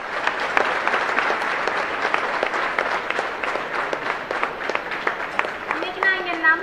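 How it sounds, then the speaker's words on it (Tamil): Audience applause welcoming guests at a Tamil student speech event, a dense steady round of clapping from a large crowd filling the clip, with a voice beginning to speak near the end. "நம்மளோட சார்பா பெரிய கைத்தட்டலோட உற்சாகத்தோட இங்க வந்திருக்கவங்க எல்லாரையும் வரவேற்போம்."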